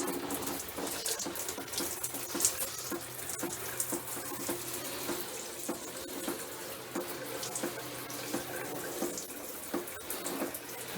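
Cold water runs from a camper faucet into a sink, a steady close splashing rush that continues unbroken throughout.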